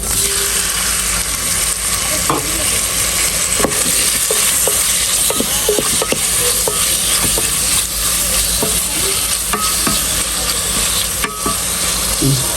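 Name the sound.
chicken frying in oil in a pan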